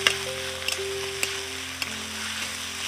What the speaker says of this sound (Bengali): দিয়ে একটু নেড়ে চেড়ে দেবো।